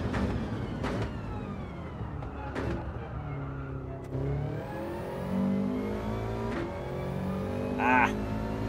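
Race car engine in the Gran Turismo 7 video game, revving through gears with rising and falling whine, sharp shifts, and a brake-and-downshift near the end, loud and close, with someone talking over it at times.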